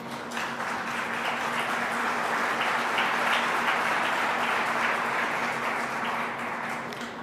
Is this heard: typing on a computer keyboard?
no